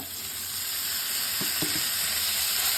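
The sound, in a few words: spice paste (cumin, ginger, chilli, garlic, onion) frying in kadai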